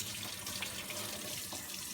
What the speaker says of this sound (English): we're going to run water over that pump